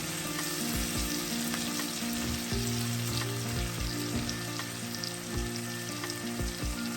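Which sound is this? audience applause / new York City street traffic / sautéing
sautéing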